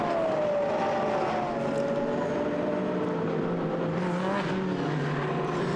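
GT race cars, including an Audi R8, on track at Monza during free practice: a loud, sustained engine roar with a falling pitch as a car passes, other engines droning behind, no talk.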